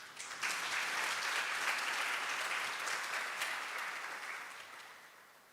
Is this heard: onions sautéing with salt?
no